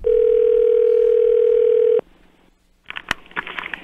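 A loud, steady telephone tone from a computer-generated prank call holds for two seconds, then stops abruptly, followed by faint line hiss and a burst of clicks and noise.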